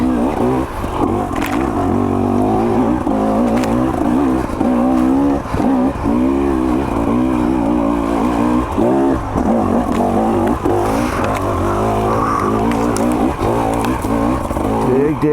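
A 2024 KTM 300 XC-W two-stroke dirt bike engine revs hard while climbing rough ground. The close, continuous engine note surges and drops repeatedly as the throttle is worked.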